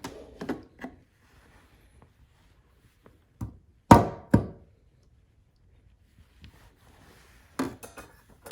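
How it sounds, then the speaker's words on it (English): A dry espresso puck knocked out of a portafilter, with several sharp, close knocks in separate bursts, two loud double thumps near the middle and another pair near the end, with quiet gaps between. "I really enjoy seeing a dry puck get knocked out"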